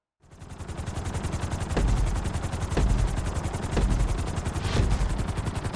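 A helicopter in GTA V starts up and settles into a steady, loud rhythmic rotor chop that continues throughout without any voices.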